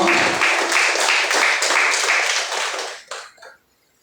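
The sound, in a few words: congregation clapping loudly in worship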